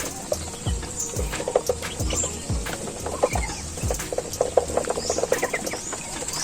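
Jumbo Muscovy ducks on a farm give repeated low, breathy calls at an irregular rhythm, several birds close by, with other fowl faintly in the background.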